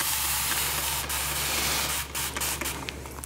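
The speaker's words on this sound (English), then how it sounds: "And now we'll spray the front." A spray bottle hisses out a sustained mist at close range, breaking into a few shorter bursts near the end.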